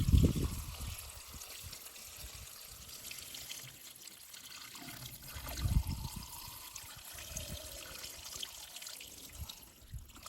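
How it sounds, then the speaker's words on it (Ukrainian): Water trickles and splashes steadily into a bucket being filled, a close, continuous pouring sound with a louder gush near the start and again midway. "Ми наляли повне відро."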